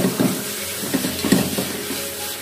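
Chopped garlic and chicken strips fry in a pan with a dense, steady sizzle, broken by a few soft stirring scrapes and knocks.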